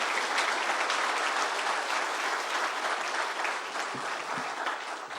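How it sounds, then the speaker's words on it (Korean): Applause of encouragement from a church rally audience at a Korean city mission gathering, a steady dense wash of clapping from many hands lasting throughout, fairly loud and even with no talk over it. "이 시간 다시 한번 격려의 박수 보내드립니다"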